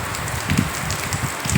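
Steady patter of rain falling nearby, a soft continuous wash with occasional heavier drops, no voices.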